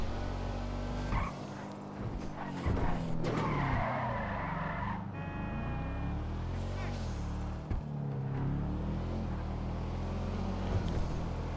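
A Karin Sultan RS car in Grand Theft Auto Online, its engine roaring steadily as tires screech through repeated long skids, with a voice speaking over parts of it.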